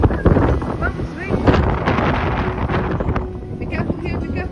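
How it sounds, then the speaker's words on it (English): Strong wind blows outdoors on a cold day, roaring and buffeting the microphone continuously with loud broadband rumble, while a person's voice is faintly heard underneath. "It's too windy."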